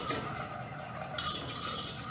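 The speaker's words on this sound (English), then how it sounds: "I'm going to add 4 level tablespoons of flour. I'm going to do 2 at a time. Whisk it in," A whisk stirring flour into a pan on the stove, a continuous soft scraping swish with faint sizzling, close and fairly quiet with no voices.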